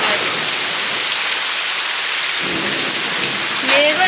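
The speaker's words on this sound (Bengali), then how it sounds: "মেঘও ডাকছে বেশ ভালোই" Heavy rain pours steadily at night, a dense close hiss across the whole stretch, with a low rumble of thunder rolling in partway through.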